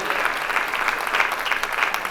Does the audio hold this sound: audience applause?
yes